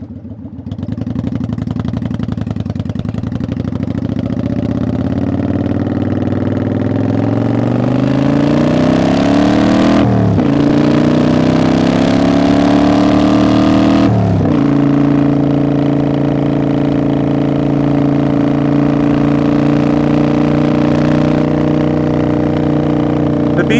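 A five-speed custom cruiser motorcycle cruising on the highway at around 80 mph gives a steady, loud engine drone that rises in pitch, drops sharply at two gear shifts, then settles into an even hum.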